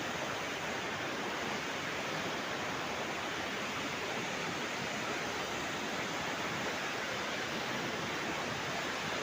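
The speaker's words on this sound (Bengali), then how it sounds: "খুব সুন্দর লাগছে, নিচে জলের স্রোত, খুব স্পিড জল" Fast river current rushing beneath a hanging bridge in Bhutan, a dense, constant roar of water holding steady and loud with no pauses or voices.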